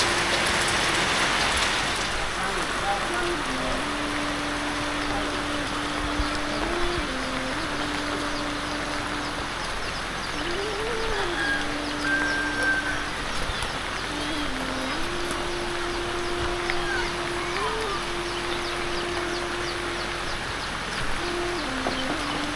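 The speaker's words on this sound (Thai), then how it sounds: "พอดีฝนตกเลย" Steady rain patters on a surface throughout in the rural countryside during the rainy season, with a wavering tonal hum drifting over it.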